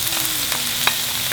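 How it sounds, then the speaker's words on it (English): Mixed peppers and mushrooms stirred into sweating onions in a hot pan for a chicken quiche, a soft steady sizzle with a few light scrapes of the spoon. "Now you're going to put the peppers, mixed peppers. Stir that in and add the mushroom as well."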